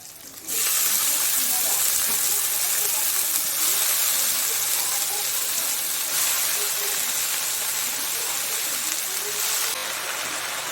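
Water spinach (kalmi shak) lands in a pan of frying garlic, onion and green chili, setting off a sudden loud sizzle. The steady hissing continues for about ten seconds.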